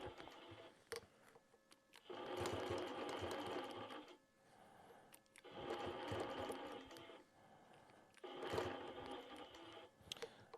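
A quilting machine stitches a Big Tex belt buckle quilt in three sustained runs of rapid mechanical whirring, each lasting about two seconds, separated by short quiet pauses, close and steady with no talk.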